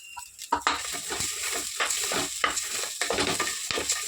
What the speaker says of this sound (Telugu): కొంచెం లైట్ ఇట్లా ఫ్రై చేసుకున్నాము